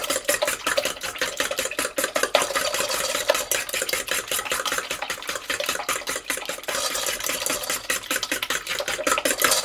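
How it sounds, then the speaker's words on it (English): A fork beats eggs in a bowl for bread pudding, making fast, steady clinking and sloshing strokes in an even rhythm that continues throughout, close and fairly loud. "Now you have to have the correct tool for beating eggs."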